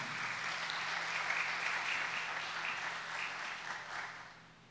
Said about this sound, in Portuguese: Vamos acolher este casal Samuel e Ana, com muito carinho, com uma salva de palmas bem bonita